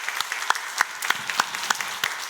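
Church congregation clapping at a Korean Full Gospel service, giving praise to God; the clapping falls into a regular rhythm of strong beats roughly every third of a second, moderately loud, with no talk over it.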